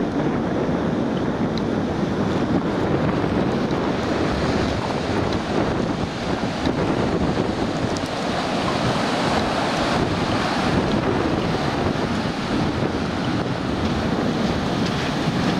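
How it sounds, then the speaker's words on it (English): Steady crashing surf on Rialto Beach, Washington, a continuous broad roar of waves with wind buffeting the microphone throughout. "We're gonna stay back a few feet in case a big wave comes."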